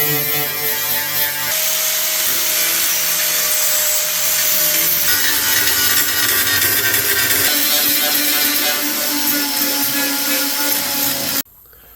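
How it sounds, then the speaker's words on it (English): A power tool grinds and scrubs paint off a rusty BMW E36 panel to bare metal. The whine is loud and continuous, close by, and changes in tone as it goes, then cuts off abruptly at the end. "just need to give this a clean up now, get some of the paint off it, get it back to bare metal"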